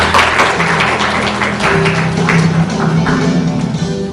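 An audience in a hall at the founding ceremony of an agriculture and food policy forum claps loudly and steadily to welcome a National Assembly member to the podium. Some faint tonal sounds sit underneath.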